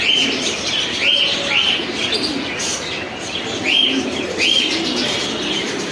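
Big black Lakkha pigeons in a pigeon shop give soft repeated coos mixed with short chirps, close and fairly clear over a steady background hum, with no talking.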